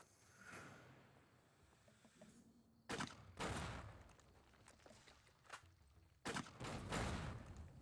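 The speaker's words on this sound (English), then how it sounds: "There's another person with a grenade rifle here, and they're shooting at me." Grenade rifle fire in Fallout: New Vegas lands as a few heavy, booming blasts spaced seconds apart, loud against a quiet, faintly noisy background.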